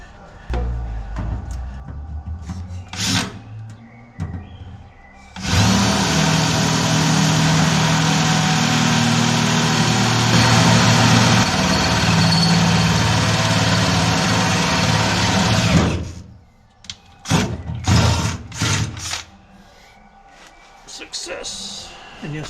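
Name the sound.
drilling two holes for exhaust bolts on a skoolie bus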